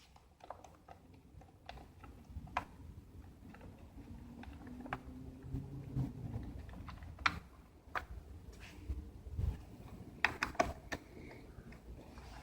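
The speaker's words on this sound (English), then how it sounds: "So we'll start removing these screws." A BMW G650GS Dakar motorcycle's rear rack has its screws worked loose by hand tools, giving faint, scattered clicks and scraping taps in a quiet room, with no talking.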